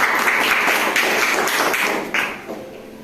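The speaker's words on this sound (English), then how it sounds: "Clap your hands." A classroom group claps their hands together during an action lesson, giving a run of sharp, fairly steady claps that thin out and fade toward the end.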